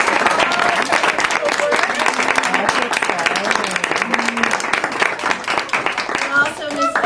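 A classroom crowd applauds the teacher on the last day of school, steady dense clapping that fills the room throughout, with voices and cheering mixed in.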